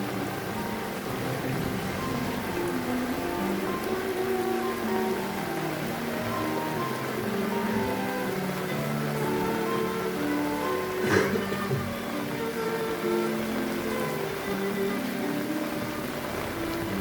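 Steady rain falls in Kushtia-Jhenaidah, a continuous hiss of drops with one brief louder crackle partway through and no talking.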